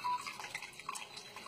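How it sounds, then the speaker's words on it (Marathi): Water poured into a brass pot that has a hole in its bottom, a faint, soft trickle and drip that stays quiet and steady throughout, with no voices. "आता हे त्याच्यामध्ये पाणी टाकतात."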